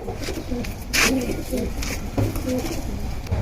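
Pigeons coo softly and repeatedly close by, with some flapping and a faint voice in the background.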